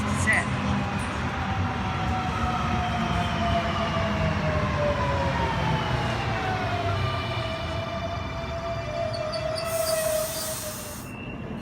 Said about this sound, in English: Liverpool service now departing platform number 2.